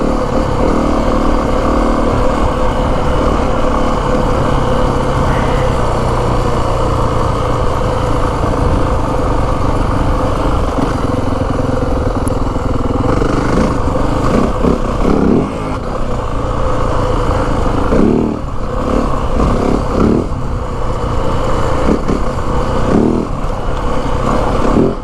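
A 2025 Yamaha WR 450F motorcycle is ridden in third gear, its loud, close engine holding a steady rasping roar with small throttle swells and dips throughout.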